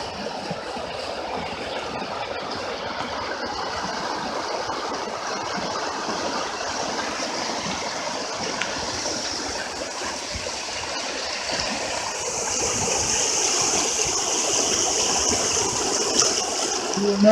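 A flooded river rushes past at close range, a dense, steady roar of churning water that holds throughout and swells louder toward the end, with no voices.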